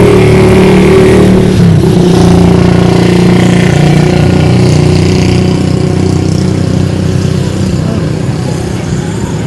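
Car engines of vehicles passing on a road near a relaxed outdoor hangout spot on a Philippine island, a steady loud motor drone with a rising rev early on, continuous throughout.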